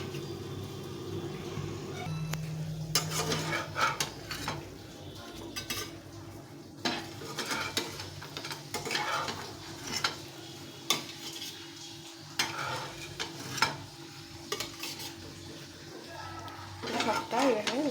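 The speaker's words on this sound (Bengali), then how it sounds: "সবটা এভাবে উঠে নেব, বাকি যেটা আছে সেটা আবার ভেজে নেব" Potatoes frying in a pan as they are lifted out with a utensil, scraping and clinking against the metal over a steady low sizzle, with a person talking throughout.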